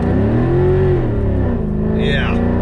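Car engine roaring under hard full-throttle acceleration on a low-traction car sliding sideways, loud and close, rising in pitch near the end, with a voice speaking over it.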